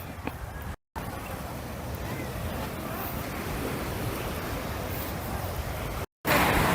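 Sea waves wash onto a resort beach in Kemer, Turkey, a steady broad surf rush heard close with some wind buffeting the microphone, cut by two brief dropouts.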